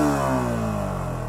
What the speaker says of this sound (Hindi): अब थोड़ा हायर आरपीएम तक रेव करेंगे हम